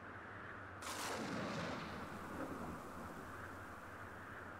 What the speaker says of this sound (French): Une tempête démoniaque.